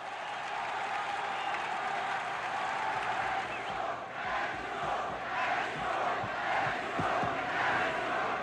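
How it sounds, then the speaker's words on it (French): A large crowd in Quebec in 1967 calls out for General de Gaulle outside the city hall, a steady roar of many voices with scattered clapping and cheers at a distance. "La foule réclame maintenant le général de Gaulle au balcon de l'hôtel de ville pour un discours."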